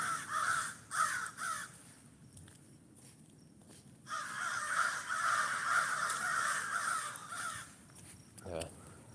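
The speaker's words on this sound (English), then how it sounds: "birds are going crazy" Crows caw loudly outdoors during a walk, repeated harsh calls in clusters with a brief lull midway, close and prominent over faint footsteps and low background talk.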